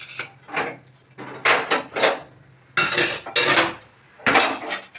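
Dishes, pots and cutlery are washed after dinner in a home kitchen, producing a series of loud clattering and clinking bursts with short pauses between them.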